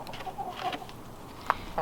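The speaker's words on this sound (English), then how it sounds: "And there's the chickens." Chickens in a chicken house give soft, scattered clucks at close range, with one sharper cluck near the end over a quiet background.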